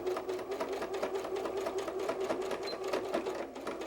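A sewing machine stitches fabric for a bear softie, a close, steady, rapid mechanical whir and clatter running continuously through the clip.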